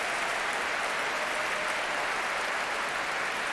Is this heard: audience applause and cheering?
yes